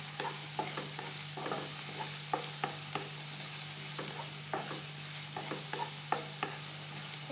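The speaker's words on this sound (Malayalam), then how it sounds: "ഇപ്പം ഞാനൊന്ന് ഇളക്കുന്നുണ്ട്." A spoon scrapes and stirs corn masala in a frying pan, soft irregular strokes over a gentle steady sizzle and a constant low hum, with no voices.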